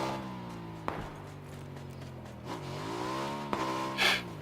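A motorcycle engine in the PUBG battle game revs with a steady droning tone that rises and falls in pitch, with a few sharp clicks and a brief burst near the end, fairly quiet overall.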